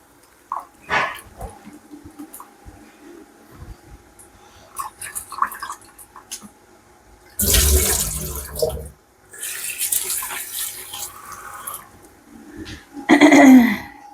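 The first water is drained off shark pieces in a kitchen vessel. Two loud gushing splashes of poured water are separated by quieter handling and clatter, and a short burst of splashing comes at the end.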